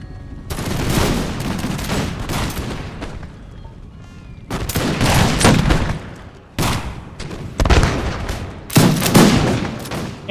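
Musket volleys fire in an American Revolution strategy game battle: several loud crackling bursts of massed gunfire, each ragged volley rolling for a second or two, separated by quieter gaps of distant battle noise, no talk.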